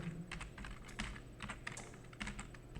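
Fingers type on a computer keyboard at close range, a quiet run of irregular clicky keystrokes with short pauses between bursts, no talking.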